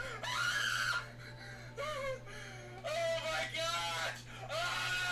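Repeated, warbling screaming bursts from Luigi in Nintendo game footage come in several loud phrases separated by short gaps, over a constant low hum.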